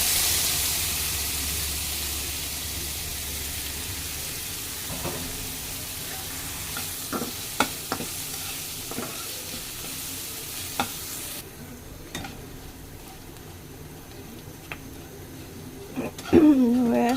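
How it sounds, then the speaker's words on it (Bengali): Pointed gourd peels, with some seeds and potato, frying in hot oil in a pan, giving a steady low sizzle with occasional soft stirring clicks, faint and close with no talking. "এখন আমি যে পটলের ছিলকাগুলো একটু ভেজে নিই"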